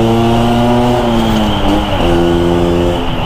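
Motorcycle fitted with a KY26 racing exhaust revving up close, a loud, steady engine drone with a harmonic pitch that dips and climbs again midway.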